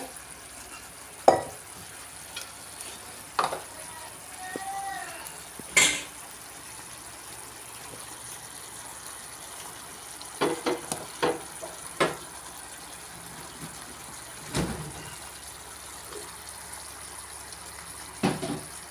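Chicken in soy sauce with spring onion stirred in a pan for Malaysian ayam kicap, a faint background sizzle broken by scattered spatula scrapes and taps against the metal.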